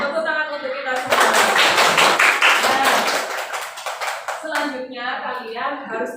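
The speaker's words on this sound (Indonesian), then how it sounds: "Tepuk tangan untuk kita semua." Children in an Indonesian classroom clap together in a dense burst of applause lasting a few seconds, then it fades as a voice talks over the room.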